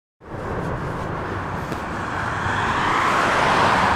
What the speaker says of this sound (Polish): Tam jadą jakieś auta, prawda?